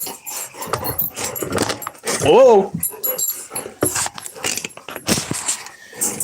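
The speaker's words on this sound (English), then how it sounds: "We do have dogs here." Dogs close by, with a loud rising whine or squeal in the middle among rustling, snuffling and movement, as a person briefly exclaims.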